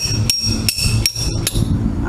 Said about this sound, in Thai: ตอกแกน ผมก็ตอกกับพื้นนะฮะตอกกับ พื้น พื้นปูน